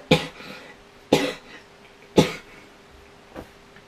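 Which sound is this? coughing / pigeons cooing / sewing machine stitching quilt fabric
coughing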